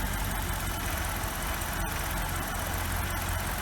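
BMW E64 650i V8 engine idling with a PCV valve fault and exhaust smoke, a steady close rumble with a slight rise and fall and small irregular ticks, no voices.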